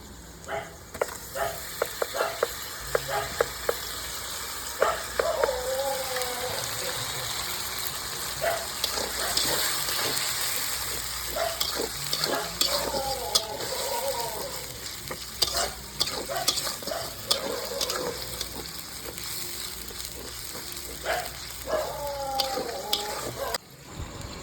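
Ginger-garlic paste and masala frying for chicken curry, a continuous sizzle broken by repeated scraping stirs of a spoon against the pan, close and fairly loud.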